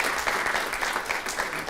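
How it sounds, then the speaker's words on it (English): An audience at a student government meeting claps in a steady, dense burst of applause, fairly close and continuous with no talk over it. "let's give one more big round of applause to the Alumni"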